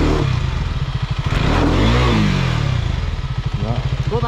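A KTM motorcycle engine revs hard on a night trail ride, with repeated throttle blips and a rising, falling rev sweep, loud and close, while people talk over it.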